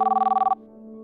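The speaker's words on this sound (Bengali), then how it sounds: "কত ফোন আসছে।" A telephone bell rings in a quick trilling burst lasting about half a second, then stops abruptly, leaving only a faint steady hum.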